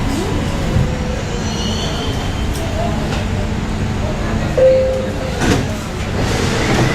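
Inside a moving metro train in India, a steady low rumble of the carriage fills the cabin, with a brief high tonal squeal partway through and faint background voices.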